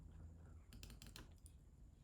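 A few quick keystrokes on a computer keyboard as numbers are entered, faint clicky taps in a short burst, alone with no talking.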